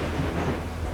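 Cold rain falling steadily with a low rumble of thunder underneath, a dense, continuous wash of sound with no voices, loud and close throughout the brief moment.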